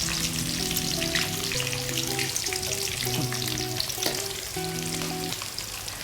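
Cashews and green chillies frying in a pan, a steady close sizzle with crackle throughout, while voices talk over it.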